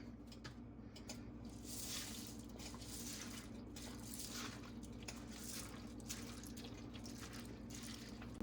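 Two cups of water run into a pot for gluten-free pasta, a faint, steady trickling and dripping with no talk over it.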